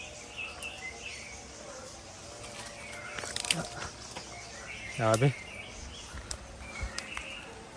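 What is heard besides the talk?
birds calling in forest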